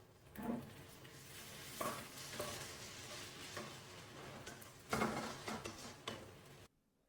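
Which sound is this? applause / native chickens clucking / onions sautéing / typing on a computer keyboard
onions sautéing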